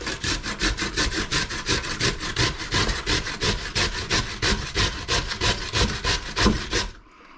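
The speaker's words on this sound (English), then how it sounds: "we're just going to grate them in a box grater" Washed potatoes are rubbed down a metal box grater in quick, regular rasping strokes, a close and loud rhythmic scraping that repeats steadily for several seconds before stopping abruptly, with no voices.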